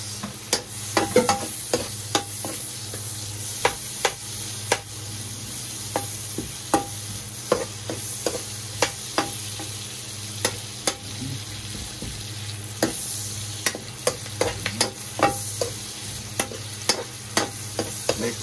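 Onions sautéing in a hot pan, a steady close sizzle broken by frequent sharp scrapes and clinks of a spatula stirring throughout, with no talking.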